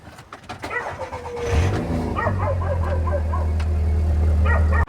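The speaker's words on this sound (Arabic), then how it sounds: "وهسيبكوا دلوقتي مع صوت العربية وهي اول دوارة" A 2008 Volkswagen Passat engine, just fitted with a new fuel pump, cranks briefly, catches, and settles into a steady, loud idle, with faint dog barks sounding in the background.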